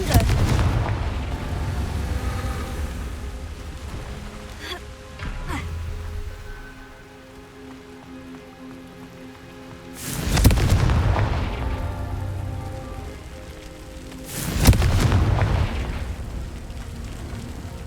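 Two loud booming blasts from the Confringo fire spell in Hogwarts Legacy, each a sharp broadband burst fading into a rumbling tail, set over steady ambient game noise with a softer thud early on.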